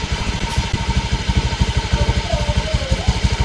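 A Honda scooter engine idles after a throttle body service, a loud, close, smooth, evenly pulsing putter that holds steady for the whole stretch.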